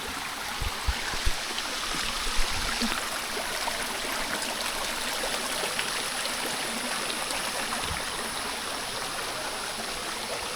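A mountain forest stream in the Knuckles range flowing beside a hiking trail, a steady broad rushing wash with a few faint knocks near the start, no voices.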